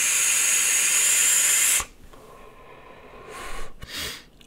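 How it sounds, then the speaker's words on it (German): A Geekvape Zeus X Mesh e-cigarette exhale: a loud, close, steady airy hiss for nearly two seconds, then quiet, followed by two softer breathy puffs. "Ich dampf nochmal."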